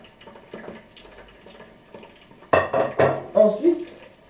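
Dishes clatter while a plate is washed in a home kitchen: soft clinks at first, then a run of sharp, close, loud ceramic knocks and scrapes in quick succession.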